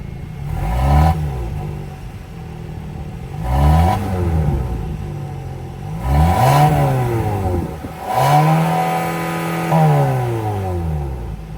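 A 2025 Hyundai Tucson's 2.5-liter naturally aspirated four-cylinder engine revs four times, each sharp climb in pitch falling back toward idle, loud and close with no talking.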